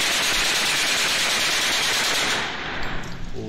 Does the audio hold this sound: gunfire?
yes